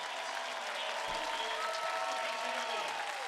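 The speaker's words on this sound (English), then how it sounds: "A well-earned round of applause" Sustained crowd applause and cheering rolls through a minor-league baseball stadium after a full-stretch catch by the Bowie Baysox, steady and dense throughout with no talk over it.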